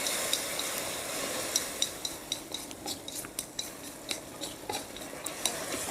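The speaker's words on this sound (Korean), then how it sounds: "간장, 청주, 설탕 약간을 넣고 부르르 끓여주세요" Soy sauce, rice wine and a little sugar bubbling with garlic in a wok, a soft steady hiss under a rapid series of light metallic taps and scrapes from stirring.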